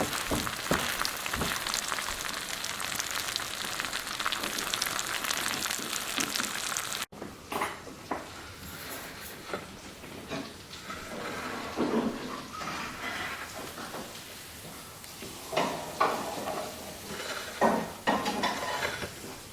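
A quesadilla frying in butter in a pan, with a steady sizzle running throughout and scattered clinks and scrapes of a utensil against the pan.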